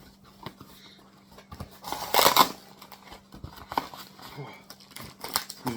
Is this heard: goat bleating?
no